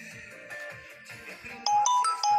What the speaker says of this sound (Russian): ну кто-то звонит